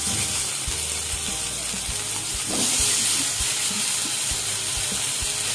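Potatoes are added to hot tempering oil that already holds browned peanuts, for a tangy Saraswat-style potato dish, and they sizzle loudly and steadily with scattered clicks and a brief surge in the middle.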